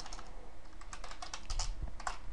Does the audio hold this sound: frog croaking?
no